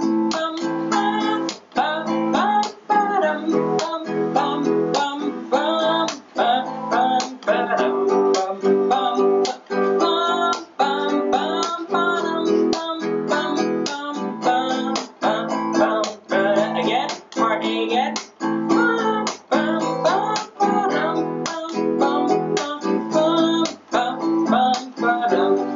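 Steady rhythmic strumming of chords on an acoustic guitar, bright and close, continuing evenly through the passage with brief pauses between strokes.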